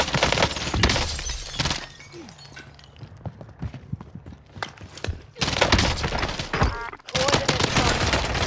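Rapid gunfire from the video game Warzone rattles in dense, loud bursts with short lulls between them, while players talk over the shooting.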